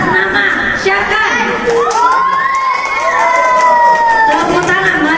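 Children cheer and shout together in a lively crowd at a school report-card ceremony. The sustained, rising whoops sound close and loud, with voices mixed in throughout.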